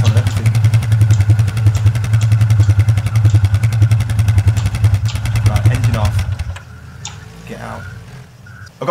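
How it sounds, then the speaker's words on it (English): A quad bike engine in the video game Arma 3 thrums loudly in a fast, rattling idle for about six seconds, then cuts to quieter background clatter. "I've got myself a quad bike"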